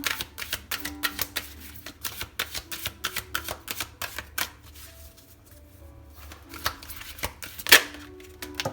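Tarot cards are shuffled and drawn close up, producing quick rhythmic papery clicks and riffles in bursts, with a brief sharper snap near the end and no talking.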